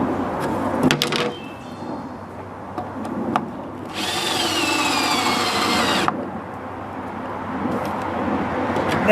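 A power drill drives a screw into the wooden frame of a DIY chicken tractor with one steady, loud whir lasting about two seconds, framed by scattered knocks and handling sounds.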